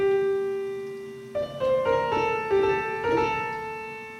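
A Five Nights at Freddy's melody is played on piano: a held note rings, then a slow, steady line of single notes follows over sustained tones, clear and alone.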